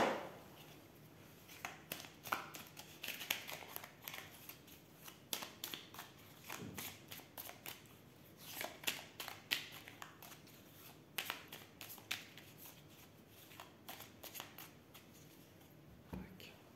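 A deck of small Kuan Yin oracle cards shuffled and drawn by hand, heard as soft, close rustles and crisp flicks scattered irregularly through a quiet room, with faint whispery breaths in between.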